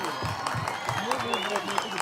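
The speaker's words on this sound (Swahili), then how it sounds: "Tumpigie makofi mzuri sana." A crowd at a children's day gathering at a village family home claps steadily in a short burst of applause, with voices chattering over it.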